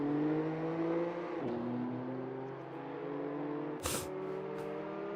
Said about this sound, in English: You see Matty J trying to do some drifting there.